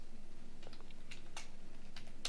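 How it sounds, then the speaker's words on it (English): Slow, uneven one-handed typing on a computer keyboard, a few sparse faint key clicks spaced irregularly over quiet room hum. "I'm typing slow because I'm using one hand"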